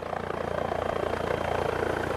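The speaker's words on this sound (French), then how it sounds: "Daniel Dubey pilote l'hélicoptère de l'Amundsen" The helicopter of the icebreaker Amundsen flies in the Arctic, its rotor making a steady rhythmic thumping drone that holds loud and constant throughout.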